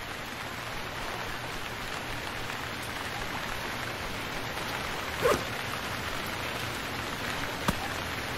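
Rain falling in the survival video game Stranded Deep, a steady even hiss of downpour throughout, with a couple of brief soft knocks near the end and no talking.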